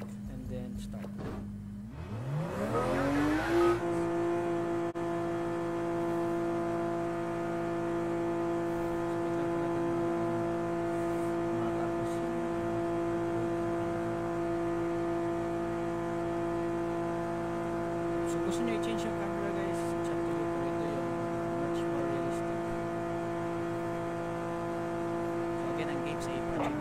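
Race car engine in the Project Cars 2 driving game, rising from a start to a steady, sustained drone with stable harmonics, occasional gear and tire noises, someone talking faintly over it.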